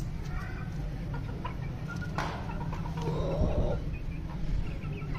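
Hen and a small rooster clucking and squawking near each other as they square up for a fight, with a steady low rumble of background noise and a louder burst of agitated calls midway.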